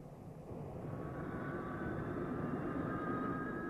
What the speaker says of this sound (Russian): Днем и ночью взлетает Ту-144, и управлять им легко и удобно.